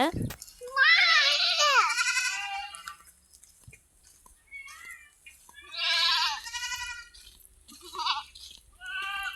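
A baby goat bleats repeatedly in loud, wavering cries close by, with pauses between calls; a voice is also heard.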